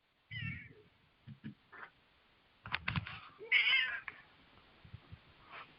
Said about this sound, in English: It's my kitty cat.